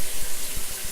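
Water running from a shower head during a leak check, a steady broadband spray and patter, close and fairly loud, with no voices.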